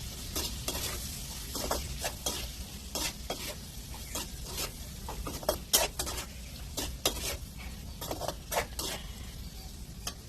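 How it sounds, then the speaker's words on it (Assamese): Mango pieces fry in oil in a pan on a gas stove, a low steady sizzle broken by frequent sharp scrapes and clinks of stirring. "ভাবিলোঁ অকণমান মানে তেলতে ভাজি দিওঁ, যাতে পানীখিনি পূৰা শুকাই যায়"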